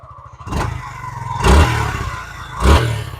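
A Suzuki Gixxer SF, a 2024 model, idles close by and is blipped three times, each short rev surging loudly then dropping back to a lumpy, clattering idle.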